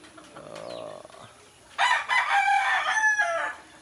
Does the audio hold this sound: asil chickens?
yes